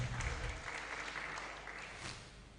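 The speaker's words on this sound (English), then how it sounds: "give a clap for her." An audience at a public speaking contest claps for a speaker, a soft, distant round of steady applause that gradually fades.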